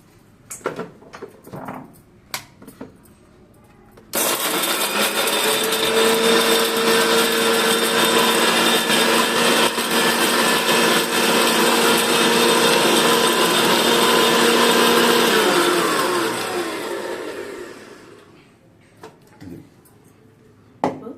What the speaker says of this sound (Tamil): இது எல்லாமே போட்டு மிக்சியில் க்ரஷ் பண்ணிக்கலாம்.